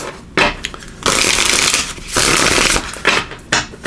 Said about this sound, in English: give these a good shuffle